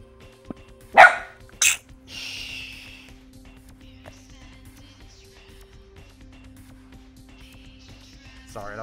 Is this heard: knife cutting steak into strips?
no